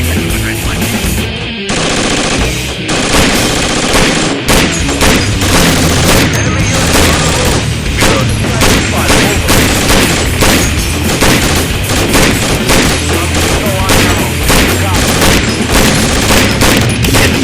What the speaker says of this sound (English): firing down range. Both guns reloaded.